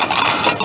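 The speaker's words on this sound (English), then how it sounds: "Okay, the coins are returned." Coins dropping into the return slot of a Pokemon card vending machine, a brief bright metallic jingle and clatter up close, loud and heard alone.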